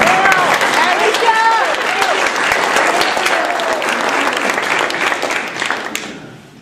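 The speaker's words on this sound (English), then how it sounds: "give her a round of applause" A reunion audience breaks into loud, dense applause, a sustained wash of many hands clapping with some cheering voices mixed in, fading toward the end.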